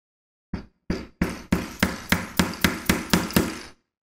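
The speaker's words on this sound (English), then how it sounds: "Now we're going to take our other hinges and we're going to take these and tap them in" About a dozen sharp, evenly spaced taps ring out close and loud, speeding up slightly as hinges are knocked into place on a Voron 2.4 3D printer's clicky clack fridge-style door, with no talking.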